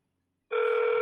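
After half a second of silence, a telephone line abruptly begins a loud, steady electronic ringing tone that continues to the end, heard alone through the handset.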